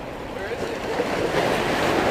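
Surf and ocean waves washing and breaking close by on a windy shore, a steady broad rushing wash that swells slightly louder toward the end, with wind buffeting the microphone.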